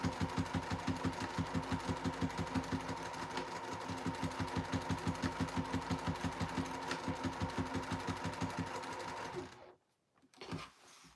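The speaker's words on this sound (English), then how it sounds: "Coming up on that waist tie, so I'm going to back stitch over that a couple times." A sewing machine back stitches over a waist tie, running in a steady rapid rhythm of needle strokes close up for most of the clip before stopping abruptly, with a brief faint rustle afterward.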